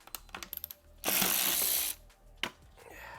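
A ratchet turns a Torx bit to remove the DISA valve from a BMW E46 engine, with a few quick clicks, then a longer rapid run of ratcheting up close, followed by a short final burst.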